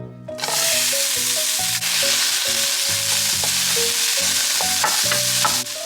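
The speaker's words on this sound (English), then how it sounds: "Prepare a pan with some oil on medium heat to saute your onions" Onions sautéing in oil in a pan over medium heat, a loud and dense sizzle that starts abruptly and holds steady, with faint scraping and knocks of a utensil beneath it, and no speech.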